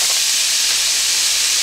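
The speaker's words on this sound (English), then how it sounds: "we're gonna add about 1 cup of frozen peas and carrots." Frozen peas and carrots dropped into a hot pan for fried rice, giving a loud, steady steam hiss and sizzle that holds for the whole moment with no talking.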